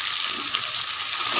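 Chicken frying with red chilli in a pan, a steady close hiss of sizzling oil running evenly and unbroken throughout, with no voices.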